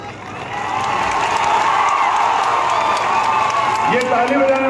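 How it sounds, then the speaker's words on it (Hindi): Rally crowd in Jaunpur applauding and cheering, a dense continuous wash of clapping and voices that stays loud throughout, with a raised shout near the end. "ये ताली बजाने वाली क्या बात है?"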